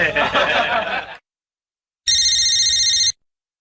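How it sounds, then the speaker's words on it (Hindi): A telephone rings in one continuous electronic burst, following a brief stretch of other sound and a pause of silence. "तब से फोन आया, फोन नहीं उठा सकते?"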